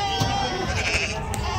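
Goats bleating at a busy Saturday sheep and goat livestock market in Angallu, with steady crowd chatter and voices throughout.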